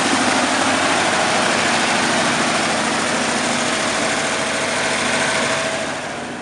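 A 1953 Buick Special with a straight-eight engine idles, recorded from the rear of the car: a loud, even, continuous rumble that eases slightly at the end, with no voices.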